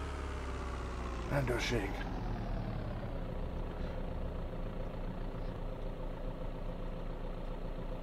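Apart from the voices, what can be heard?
vehicle engine running in a video game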